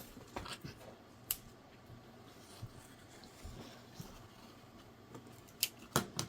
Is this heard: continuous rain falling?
no